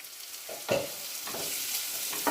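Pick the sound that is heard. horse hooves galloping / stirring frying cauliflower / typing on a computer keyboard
stirring frying cauliflower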